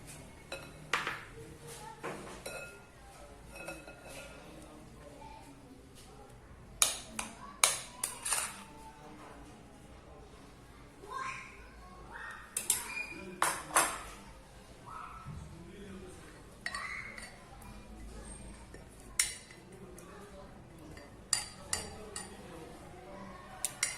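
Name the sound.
mixing yogurt and ingredients in a bowl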